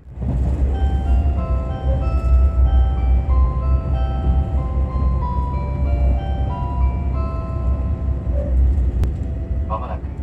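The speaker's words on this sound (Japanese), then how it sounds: "昔ながらの車内チャイム、アルプスの牧場が流れてきたところで" On board the limited express Ozora on the Nemuro Main Line nearing Sapporo, the traditional chime melody 'Alpine Pasture' plays as a clear tonal tune over the loud, steady rumble of the moving train.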